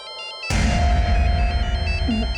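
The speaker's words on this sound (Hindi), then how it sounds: "किसका फोन आ गया?" A phone rings indoors with a repeating electronic ringtone, steady and fairly loud, continuing over a low background hum for a couple of seconds.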